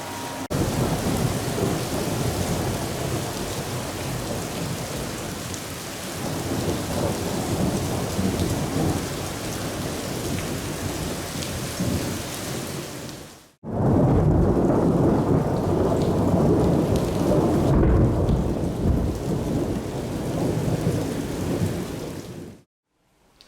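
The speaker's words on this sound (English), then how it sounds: "Just to add to the drama, thunder and lightning." Thunder rumbles and rolls over steady heavy rain during a thunderstorm, a broad continuous roar that breaks off briefly midway and then returns just as loud.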